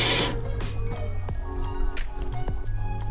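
Warm water runs from the tap into a small sink inside a Mercedes Sprinter camper van: a steady close splashing stream with scattered drips and gurgles, no one talking.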